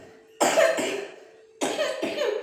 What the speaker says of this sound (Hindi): खांसी ज्यादा हो रही है बेटा